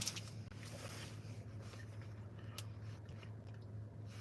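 Quiet, close chewing and crunching of a hard candy lozenge, steady mouth sounds with no speech.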